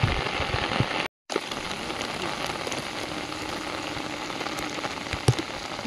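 Hard rain beats down on an open field in a thick, unbroken wash of hiss, cut by one short silent gap early on before the downpour resumes just as loud.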